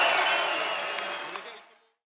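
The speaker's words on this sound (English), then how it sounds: "Make some noise for TOX and TALI, everybody" A crowd at a Don't Flop rap battle applauds and cheers loudly right after a round ends, then the noise fades out over about two seconds.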